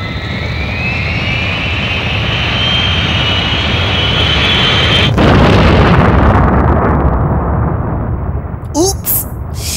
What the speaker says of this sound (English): Please start the main engines.